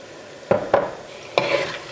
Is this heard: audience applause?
no